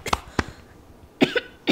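A woman coughs indoors in several short harsh bursts, two quick ones, a pause, then another pair close to the microphone.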